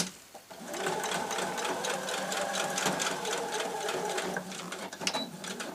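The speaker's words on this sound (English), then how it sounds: "Another couple of stitches backwards" A sewing machine runs a short burst of reverse stitches across a zip on a lined tote bag, a steady close rapid chatter for several seconds that slows at the end.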